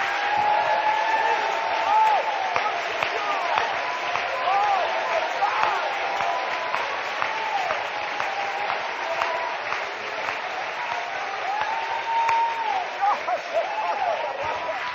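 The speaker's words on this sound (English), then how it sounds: "Clap your hands, all ye people." A church congregation claps and applauds, a sustained wash of many hands filling the room at steady loudness, with voices calling out through it.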